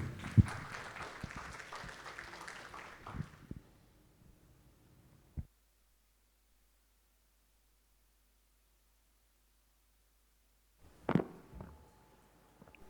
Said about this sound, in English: a round of applause for Danny